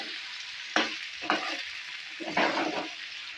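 Potatoes and curry leaves frying in a pan with cumin, giving a steady sizzle with several louder bursts of crackling as the pieces are stirred, close by and without talk.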